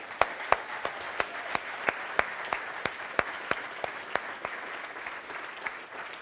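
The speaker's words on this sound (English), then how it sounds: "I would love for you all guys to give them a resounding appreciation through a good applause." Audience applause at an aquaculture startup demo day in Bergen, a steady crowd clapping with sharper individual claps standing out at an even pace, moderately distant and sustained throughout.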